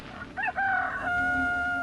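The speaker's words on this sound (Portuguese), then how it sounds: "no mesmo instante cantou o galo" A rooster crows alone, a clear rising then sustained call close by, part of a dramatized Gospel reading about Peter's denial.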